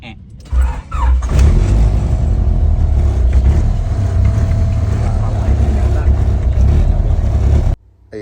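A Honda Civic engine starts and settles into a high idle around 1,800 to 2,000 RPM while warm, giving a steady, loud mechanical drone close by that runs unbroken for several seconds.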